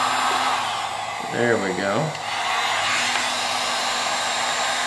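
A heat gun warms parts of a wind restrictor being installed on a Corvette C8, giving a steady, loud airy roar throughout while a person speaks briefly over it.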